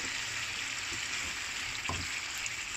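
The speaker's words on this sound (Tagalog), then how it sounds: "Haluin." Eggplant in pomodoro sauce with a little salt sizzles steadily in a pan while a spoon stirs it, giving a few soft scrapes and taps under the constant frying hiss.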